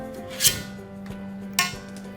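A teaspoon clinks and scrapes against a metal baking tray in a kitchen, with two sharp metallic knocks amid soft rubbing and handling noises.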